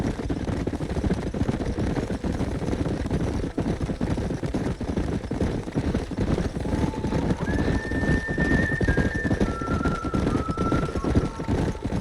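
Horses in the Red Dead Redemption video game, with dense clip-clop of galloping hooves throughout and a few high whinnies near the end, all under a continuous loud mix of game sound.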